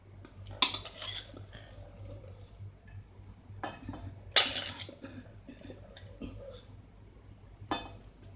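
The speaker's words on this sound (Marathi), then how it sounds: "आता आपण या पातेल्यामध्ये ही डाळ काढून घेऊया।" Coarsely ground urad dal batter is scraped from a grinder jar into a pot, making a few sharp metallic knocks and clinks between soft scraping, close and fairly quiet with no talk.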